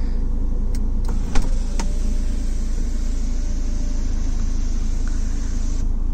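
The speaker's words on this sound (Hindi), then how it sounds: "तो चलो अब सनरूफ खोलते हैं। तो अब यहाँ से बटन दबाते हैं।" A car sunroof opens at a button press: a small click, then a steady electric motor whir runs for several seconds under loud constant cabin and road noise.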